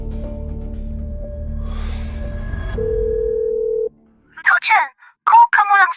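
A telephone handset gives a steady dial tone and then a held dialing tone lasting a few seconds before cutting off, followed by brief bursts of speech.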